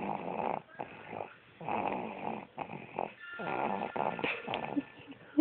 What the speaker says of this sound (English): He snores like a grown man.